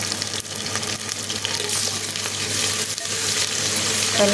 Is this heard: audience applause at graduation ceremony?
no